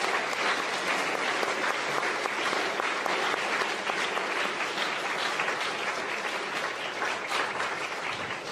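An audience at an upper school academic awards ceremony claps for the honored students in a loud, even, continuous round of applause with no talking over it.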